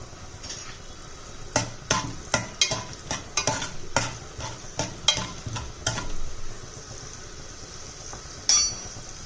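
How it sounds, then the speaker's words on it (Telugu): Cumin and dried red chillies crackle in hot oil for sambar while a spoon repeatedly scrapes and knocks the pan, a rapid series of close clinks over a constant sizzle. "జీలకర్ర, ఎండుమిర్చి కూడా వేసి మంచిగా ఫ్రై చేసుకోవాలి"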